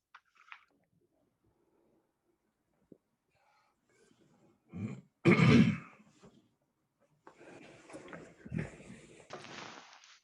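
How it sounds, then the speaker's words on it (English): A few harsh coughs and throat-clearing sputters after choking on tea, close and irregular, with quiet pauses and some clicks before them. "I choked on my tea."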